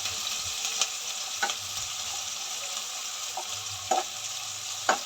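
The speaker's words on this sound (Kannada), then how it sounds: "ಇದು ಚೆನ್ನಾಗಿ ಹಸಿ ವಾಸನೆಯಾಗಿ ಸ್ವಲ್ಪ ಬ್ರೌನ್ ಕಲರ್ ಬರಬೇಕು ಅಲ್ಲಿವರೆಗೂ ನಾವು ಇದನ್ನು ಫ್ರೈ ಮಾಡ್ಕೋಬೇಕು" Sprouted horse gram fries in a pan under a continuous soft sizzle, with a handful of spaced scraping stirs from nearby.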